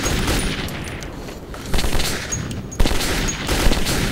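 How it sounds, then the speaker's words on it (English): AK rifle gunfire in Metro 2033, a dense, loud stream of rapid shots and booming impacts running for about four seconds over a gritty background, with sharper bursts near the end and no talking. "He's using the AK."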